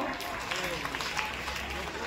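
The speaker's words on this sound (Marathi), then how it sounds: "विद्यार्थ्यांचा सन्मान टाळ्या वाजवून करावा" Applause for students at a school prize ceremony during a Karmaveer Jayanti celebration, a dense, steady wash of crowd clapping mixed with chatter.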